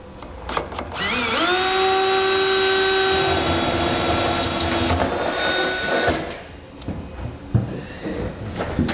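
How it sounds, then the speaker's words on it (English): A power drill with a 3/4-inch bit spins up with a rising whine and grinds steadily through metal for several seconds while installing a gooseneck trailer hitch, then stops, followed by scattered handling clatter. "we're going to drill out the hole there"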